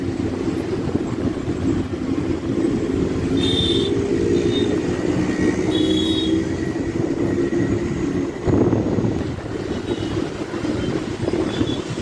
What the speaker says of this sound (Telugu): ఒక మెట্రో వెళ్తుంది, ఒక మెట్రో వస్తుంది అటు సైడ్